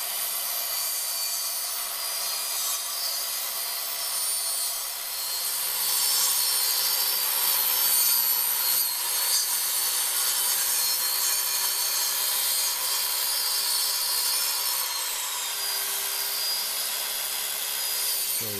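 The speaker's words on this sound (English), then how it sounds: "Make sure your saw blade is just coming through the other side because that gives you more control." A saw cuts through hardboard siding in one long, steady, close pass, a bright rasping roar that holds nearly constant with only slight dips.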